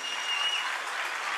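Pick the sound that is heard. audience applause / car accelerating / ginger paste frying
audience applause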